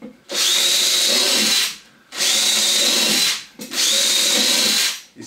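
A power drill bores holes in wood in three loud, steady bursts, each about a second and a half long and separated by short pauses, with no speech.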